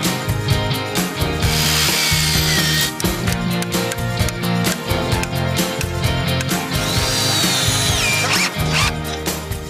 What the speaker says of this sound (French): on va utiliser des chevilles à frapper. Donc cette cheville, elle va traverser la lambourde et elle va venir dans le béton